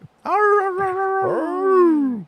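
A dog lets out a short whimper, then a drawn-out, wavering howl that rises and slowly falls, close and clear in a quiet room.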